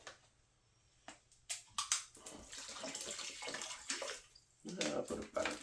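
Water poured from a blue-labeled bottle into a pot of chili beans, a soft running splash that comes and goes in bursts over several seconds, fairly close and moderately loud.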